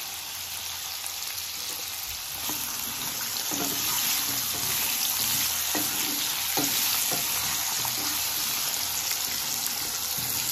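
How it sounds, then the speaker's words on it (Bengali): Tangra fish frying in a pan after a pinch of salt goes in, a loud continuous hiss and crackle with a few spattering pops and stirring knocks. "এটা আমি 2-3 মিনিট মতো ভেজে নেব"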